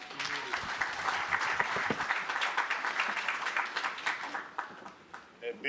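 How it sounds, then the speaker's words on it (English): Conference audience applause at a regional sustainable energy event, sustained crisp clapping from a sizeable crowd that thins toward the end, with a brief voice near the close. "Big round of applause."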